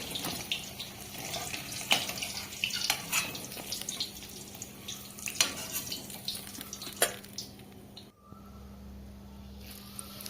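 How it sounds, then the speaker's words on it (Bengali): Cumin seeds and bay leaf are tempered in hot oil, crackling and spitting up close with scattered sharp pops and a light sizzle. The sound drops off sharply near the end. "এখানে আমি জিরে ফোড়ন দিলাম, তারপরে তেজপাতা ফোড়ন দিলাম"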